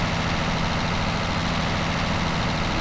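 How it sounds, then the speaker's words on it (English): A small tractor engine idles loudly nearby, a steady, unbroken rumbling drone with no pauses or changes in pace. "This tractor's pretty loud, actually."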